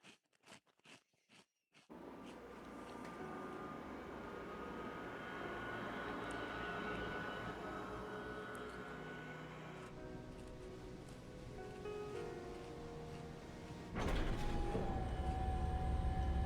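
Fighter jet taking off in the Ace Combat 7 video game, a steady loud engine roar building after a few brief opening bursts, with a sharper surge in thrust near the end.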